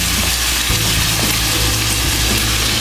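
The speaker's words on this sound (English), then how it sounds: "Here it's sizzling, isn't that great?" Meat dropped into hot oil in a pan for sausage and peppers, giving a steady, close, broadband sizzle that runs without a break from start to end, with no voices.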